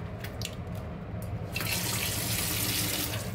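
Hands are washed under a running tap at a sink. A soft trickle turns into a fuller, louder gush of water partway through, and the flow continues steadily to the end.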